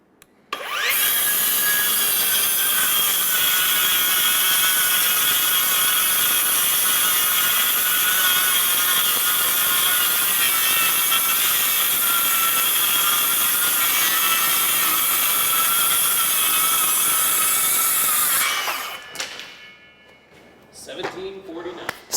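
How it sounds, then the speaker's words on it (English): A Ryobi power saw cuts through wood, a loud steady whine with rasping cut noise that runs for about eighteen seconds, then stops and winds down. "Okay, that time I did push the saw just a touch faster, but again, it maintained RPMs well."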